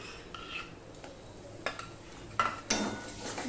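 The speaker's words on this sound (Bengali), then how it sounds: "এবার আমি দিয়ে দিচ্ছি টক দই আর বেসনের মিশ্রণটা" A sour curd and besan mixture goes into a pan over a low flame, with soft stirring and a few sharp clinks of a utensil against metal over a faint sizzle.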